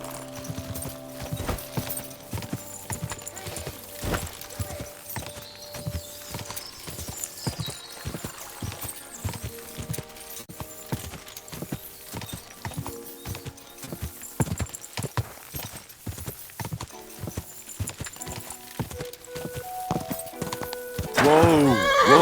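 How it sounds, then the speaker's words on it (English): Rhythmic clip-clop of a horse's hooves in Kingdom Come Deliverance II, close and steady throughout, with a whinny and snorting near the end and occasional game voices over the top. "This must be the ugliest horse I've seen in my life."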